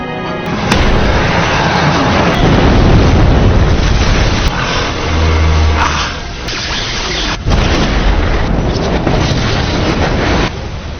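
Helicopter explosion in a film, a heavy booming blast followed by roaring, rumbling debris and whooshing bursts, loud and sustained with brief dips and renewed surges.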